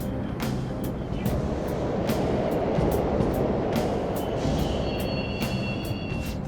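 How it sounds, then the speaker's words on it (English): Subway trains rumble continuously through the tunnels of Persona 5 Royal's Mementos, a dense rolling roar with repeated sharp rail clacks and a faint metallic squeal near the end, no voices over it. "The trains are totally running!"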